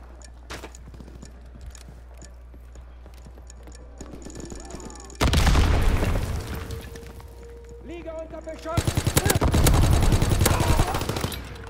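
Call of Duty: WWII match with bursts of automatic gunfire and heavy blasts, loudest in dense stretches around the middle and end, over a steady low rumble, with a voice talking at points.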